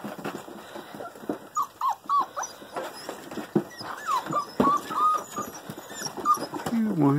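Hungry Rottweiler puppies whimper and yip close by in a string of high, wavering cries with short pauses between them.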